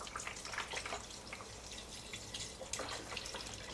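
Chicken stock, about 4 cups, poured into a soup pot for a keto ham and bean soup, a steady splashing liquid pour running throughout at moderate loudness with no voices.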